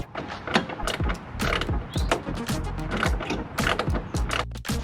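T20 screws being backed out of a bumper bracket on a Nissan Titan during front-end disassembly, giving a busy run of close, loud clicks, ratcheting and metallic scraping at an uneven rhythm with no talking.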